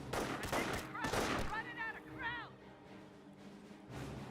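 A base MG emplacement in Company of Heroes 1 rattles off dense, rapid bursts of machine gun fire in the opening seconds, then gives way to quieter battlefield noise and whining tonal game effects.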